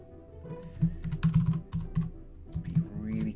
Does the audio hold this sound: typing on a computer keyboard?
yes